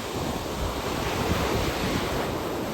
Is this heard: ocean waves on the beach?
yes